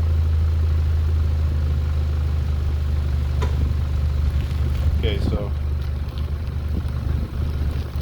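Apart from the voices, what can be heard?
Mazda Miata NC stock exhaust with washers creating leak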